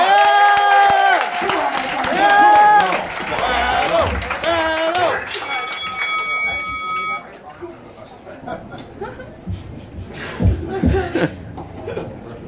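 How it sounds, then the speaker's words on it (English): Audience at a RoastMasters comedy roast main event, with crowd laughter and clapping that build and fade while a host talks over it, lively room sound mixed with chuckles. "Clap it up, come on."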